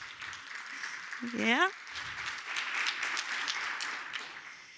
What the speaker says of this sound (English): maybe we can give them an applause